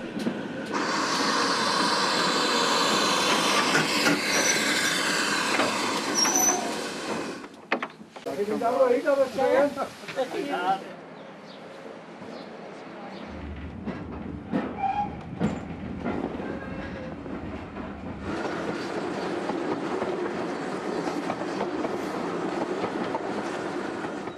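A heritage train on the Llangollen Railway in Wales rumbles and clatters along the track, loud and steady with a brief quieter stretch, as voices and ambient noise mix in.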